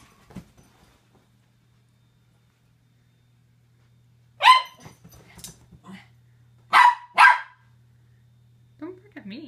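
A dog barks in short loud bursts indoors after its bath, two or three sharp barks separated by quiet gaps, with a low steady hum in the background.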